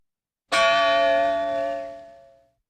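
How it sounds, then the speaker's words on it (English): A single bell struck once by its clapper, ringing out sharply and then decaying smoothly into a long, humming resonance that fades over about two seconds. "your clapper strikes the bell more, gives it more energy,"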